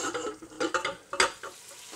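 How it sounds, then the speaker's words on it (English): Chicken frying in olive oil in a pan for a chicken tagine with vegetables sizzles steadily, with repeated scraping stir strokes and a few clinks of the utensil against the pan, close up and with no talking. "So now you can see the chicken's been frying for maybe 5 to 10 minutes."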